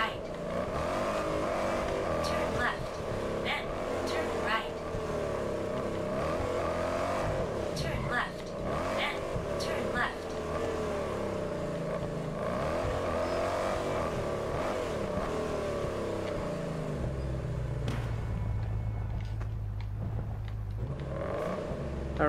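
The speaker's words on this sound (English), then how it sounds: "really like the sound of this car as well." Continuous engine drone with rising and falling revs as a car in the video game Test Drive Unlimited Solar Crown accelerates and shifts, sustained and fairly close, with speech faintly underneath.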